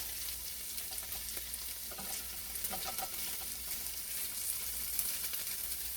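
Garlic frying and being stirred in a pan, a steady close sizzle with scraping stir sounds running throughout, no talking.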